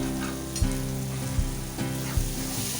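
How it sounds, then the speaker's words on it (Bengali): Masala with green chilies and a little water frying in a pan for a rohu fish bhuna, sizzling loudly and continuously with a few sharp scrapes and knocks from stirring. "কাঁচামরিচ দেওয়ার পর ভালো করে মশলাটা নেড়ে চেড়ে নিব"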